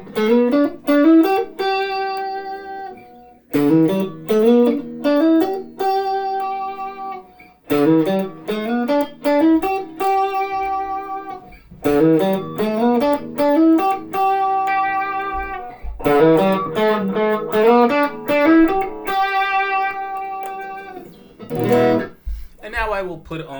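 Clean single notes picked one at a time on a Fesley FST100 electric guitar, each ringing and decaying in short melodic phrases with brief pauses between groups, played close and unaccompanied.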